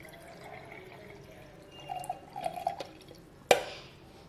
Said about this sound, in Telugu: గ్లాస్ తీసుకొని ఫస్ట్ మనం చేసుకున్న జ్యూస్ని వేసేసుకుందాం.